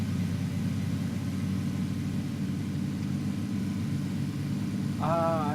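A car in a battle royale shooter drives nearby with a steady, loud low engine rumble that persists throughout, and a brief voice-like tonal sound rises at the very end.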